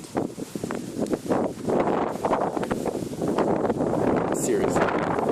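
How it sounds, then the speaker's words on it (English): Gusty outdoor wind buffets the microphone in a constant, loud rumbling roar with rustling bursts, like a gale blowing across the mic for the whole stretch. "It has not been windy the whole day. And the second I come outside to try and use this, it's like blowing a gale."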